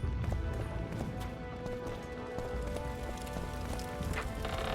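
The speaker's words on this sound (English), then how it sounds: "Where are these horse coming from?" Horses galloping in the video game The Witcher 2, a steady rapid clip-clop of hooves over a dense, constant game soundscape at moderate level, with no talk.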